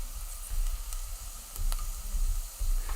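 Onions fry in a pan with a continuous soft sizzle and low rumble, a few faint clicks of stirring, and no voices.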